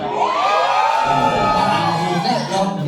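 A live concert crowd at a replica-band reunion show cheers, whoops and shouts continuously, a dense, loud wall of voices sustained throughout.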